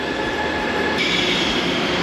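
Haramain high speed train in Saudi Arabia, an economy service of about 14 small cars, gives a steady, loud rushing rumble of rail travel with a faint high whine throughout, no talk over it.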